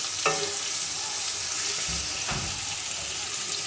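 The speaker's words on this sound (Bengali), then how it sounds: "করে কষিয়ে নেব বেশিক্ষণ কষাতে হবে না মশলা প্রায় রেডি" Masala spices with prawns for a Bengali prawn curry fry in a pan under a steady close sizzling hiss, with a couple of brief knocks and scrapes from stirring and no talking.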